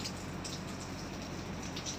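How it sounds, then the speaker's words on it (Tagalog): Heavy rain falls aboard a ship as a dense, steady hiss of drops drumming on surfaces, even and continuous with no voices. "Lakas ng ulan oh."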